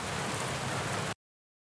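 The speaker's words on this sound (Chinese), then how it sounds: "第一种呢就是将这里的下雨声这个音效准备了" A rain sound effect gives a dense, even hiss of steady rainfall for about a second before cutting off abruptly into silence.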